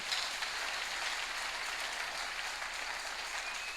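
Congregation clapping during a church service, a dense, steady wash of applause throughout with no talk and no clear breaks.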